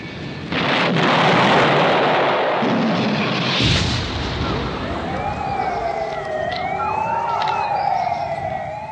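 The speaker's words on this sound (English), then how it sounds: "But the true target of the airstrikes, a nearby RAF airfield, is also hit." Airstrike explosions hitting an RAF airfield, a loud booming rumble that swells and fades over several seconds, followed by a rising and falling wailing siren in the background.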